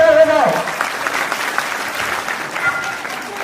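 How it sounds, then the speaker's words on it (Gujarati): Applause from an audience at an Ahir Vaniya family reunion gathering in Surat, a steady crowd of clapping that carries on throughout, with a voice speaking briefly at the start. "તો તાળીઓથી જોરદાર બજાવો"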